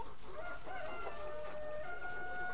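Layer hens on a poultry farm cluck and call steadily in a quiet barn, with no voices over them.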